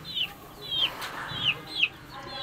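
Egg-laying hens clucking in a small backyard flock, a series of four or five short rising-falling clucks spaced evenly, fairly close and alone over faint background noise.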